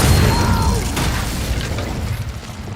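Fire spell cast in Hogwarts Legacy, a loud whooshing burst at the start that slowly fades into a rumbling, crackling tail, close and alone, no talking.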